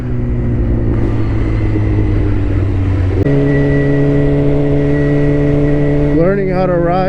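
A Suzuki GSX-R 600cc sport motorcycle engine idles and revs in steady, loud, close-up drones, stepping up in pitch partway through and rising again with wavering revs at the end.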